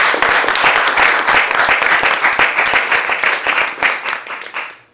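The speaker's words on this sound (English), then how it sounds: "Give us one big round of applause for Rohan." Audience applause following a graduation concert performance, a dense burst of many clapping hands that holds steady for about four seconds, then thins and fades toward the end, with no talk over it.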